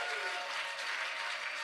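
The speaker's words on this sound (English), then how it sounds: "can we get a round of applause or a drum roll?" An audience gives a steady round of applause, dense clapping sustained evenly throughout at moderate distance.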